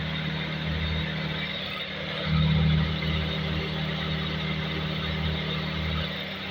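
Toyota Altezza engine idling with a misfire, heard close and loud as a steady low rumble with an uneven throb and a brief surge in the middle.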